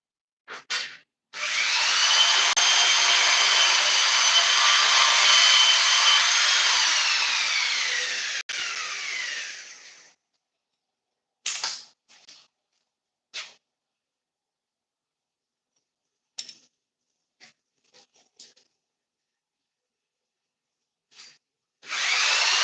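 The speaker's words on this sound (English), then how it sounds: "just use this bandsaw" A bandsaw in a blacksmith shop cuts metal in one loud, steady, whining run of about nine seconds, followed by scattered clanks and knocks from the work.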